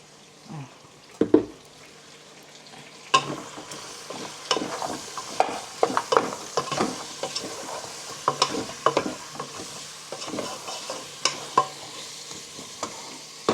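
Pork ribs with garlic cook in a pan, giving a bright sizzle broken by frequent scraping and clattering stirring strokes in an irregular rhythm, fairly close, with no speech.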